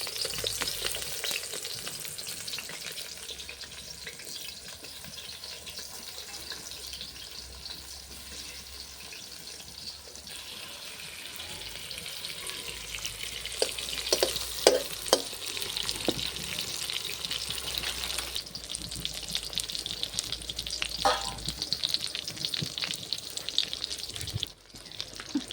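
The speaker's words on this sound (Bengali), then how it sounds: "তেল গরম হয়ে গেলে কড়াইতে বেগুনগুলো আস্তে আস্তে ছেড়ে দিচ্ছে।" Eggplant slices fry in hot mustard oil in a wok, giving a steady close sizzle with occasional clinks and stirring noises partway through.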